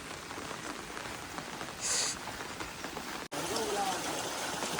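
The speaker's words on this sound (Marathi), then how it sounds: "पाऊस पडतोय खूप" Steady rain patters over everything, with a brief burst of noise and a momentary dropout partway through.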